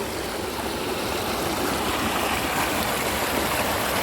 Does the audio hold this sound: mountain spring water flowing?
yes